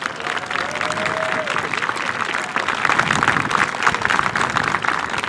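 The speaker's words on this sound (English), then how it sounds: "let's give them all a round of applause again" Audience at a high school graduation ceremony giving a sustained round of applause, loud and continuous crowd clapping with a few cheers and murmurs mixed in.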